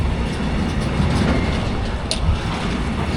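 A train rumbles past nearby with a steady, dense roar and rattle, continuous and loud throughout with no voices.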